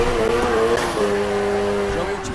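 A race car in the game Need for Speed Heat revs hard with a steady high engine tone while drifting, loud and close, with game voices speaking over it.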